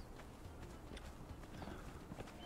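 Horse hooves clip-clopping in the Conan Exiles video game, a steady run of hoof beats mixed into dense, continuous game sound with no talking.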